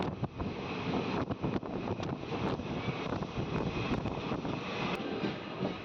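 A diesel express train rumbles along steadily through the Nallamala forest, crossing the Gundlakamma river, with heavy wind buffeting the microphone, a continuous loud roar with occasional rattling clacks.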